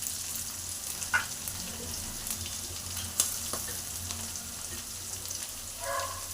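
Green peas and capsicum frying in a pan, a low steady sizzle with a few stirring clicks and a brief spatter near the end, quiet and close.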